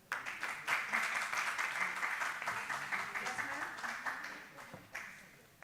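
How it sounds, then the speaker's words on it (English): Applause from a workshop audience, dense steady clapping at moderate distance lasting throughout, with a few louder individual claps standing out. "A round of applause, please."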